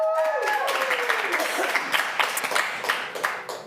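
An audience claps and cheers for finalists at a live art startup pitch show, a fading tonal sound at the start giving way to a steady patter of claps, dense and moderately close.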